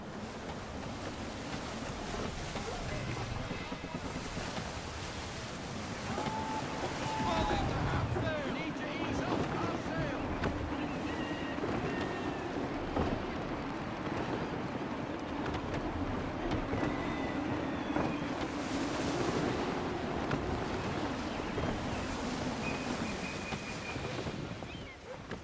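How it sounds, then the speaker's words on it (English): Gusty wind and rolling ocean waves at sea in Assassin's Creed 3, a steady broadband roar of surf and wind with swelling gusts, under game music and occasional voices. "Wind looks to be shifting. Stay alert, Connor. Gusty winds can be difficult to manage."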